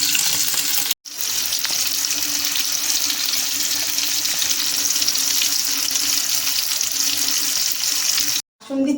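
Chicken pakoras with kasundi frying in hot oil, a loud continuous bubbling sizzle that cuts out briefly near the start and again near the end, with no talking.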